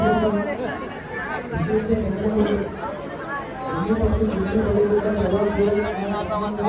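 A crowd at the Gavhan festival in India, a dense babble of many voices chattering nearby, steady and moderately loud throughout, with a voice talking over it.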